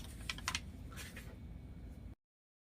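Scissors cutting out printed photos, giving a few quick crisp snips early on, then softer paper rustling and snipping, close and faint, before falling silent.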